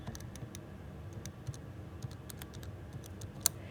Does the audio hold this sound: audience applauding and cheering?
no